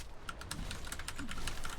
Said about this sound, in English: Oh, the typing.